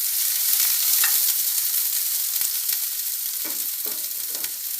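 Onions sauté in a pan for sautéed potatoes with a bright, hissing sizzle throughout, close by, and a few soft utensil scrapes toward the end.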